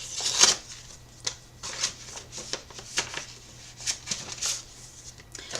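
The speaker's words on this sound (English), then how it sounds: "Alright, I'm just going to rip it to shreds." Glued subscription box packaging being torn open by hand, a run of close, crackly ripping and rustling bursts in an irregular rhythm, with no voice over them.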